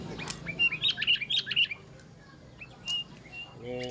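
A sooty-headed bulbul sings a quick run of bright, bubbling chirps up close, then a few scattered calls before a low hum creeps in.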